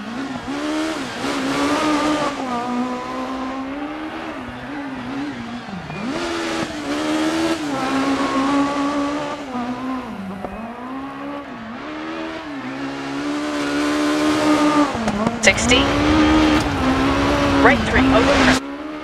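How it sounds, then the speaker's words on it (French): Rally car engine from DiRT 4 revving and shifting through a loose, sliding night stage, a steady droning exhaust with rising and falling pitch, tire scrabble underneath, and a louder burst toward the end, with someone talking over it. "Alors pour l'instant la voiture glisse beaucoup, elle est beaucoup moins agréable à piloter"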